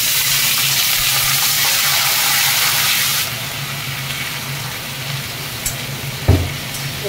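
Cut potatoes drop into hot oil with spice tempering in a home kitchen pan, giving a loud, dense hiss of frying that eases into a quieter steady sizzle with a brief clatter of utensils.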